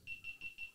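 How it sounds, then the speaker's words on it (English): A camera with a dead battery beeping, five quick, faint high-pitched beeps in a steady rapid rhythm, alone. "we got cameras beeping and everything."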